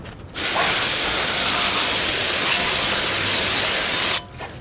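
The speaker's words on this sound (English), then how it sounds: "First thing I like to do is just to hose down the rims just to get all the nasty brake dust off" A hose sprays water onto car rims to rinse off brake dust during a maintenance wash, giving a loud, steady hiss that begins abruptly and cuts off after about four seconds.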